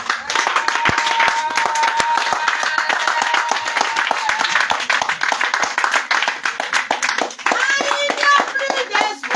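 A church congregation at a revival worship service claps continuously in quick, dense rhythm, close and loud, with voices and some children talking underneath and a few sung notes rising near the end.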